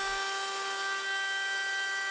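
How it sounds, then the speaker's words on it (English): A high, steady power-tool whine holds at constant pitch throughout, loud and close: a router with a round-over bit spinning as it rounds over oak edges. "For that I'm using the router with a round over bit"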